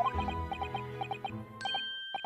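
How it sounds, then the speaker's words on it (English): Bells ring in the video game The Great Ace Attorney Chronicles, a series of bright, evenly spaced chime strikes over a low sustained musical background, with a higher held tone near the end. "Oh, those bells."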